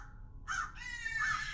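A crow caws in a student silent film set in the woods, two harsh calls close together, the second longer and drawn out, ringing clearly over a quiet low background rumble.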